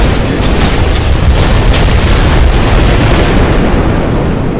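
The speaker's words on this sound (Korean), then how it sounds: "C4를 터트리면서 이제 뒤에 준비되어 있던 상황극의 맵까지 다 터져버린 거예요" A C4 blast from the Minecraft Techguns mod sets off a chain of explosions, a loud, continuous roar of rumbling booms that fills the whole stretch and slowly fades at the end.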